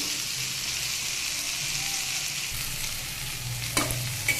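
Boiled mixed vegetables frying in a pan, a continuous soft sizzle with faint stirring and a couple of sharper scrape knocks near the end, no voices.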